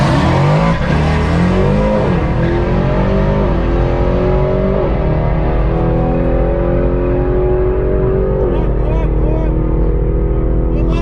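Supercharged Jeep accelerating hard down a quarter-mile drag strip, a loud sustained engine roar climbing through gear shifts, close and overwhelming, fading slightly toward the end.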